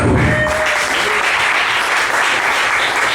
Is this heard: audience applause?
yes